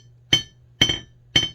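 A hammer strikes a straight razor during peening, three sharp metallic taps at an even pace with a bright ringing edge, close and with no talk.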